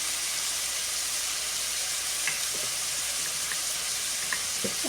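Minced meat frying in a pan over medium heat, a steady close sizzle with faint crackles and occasional light stirring clicks.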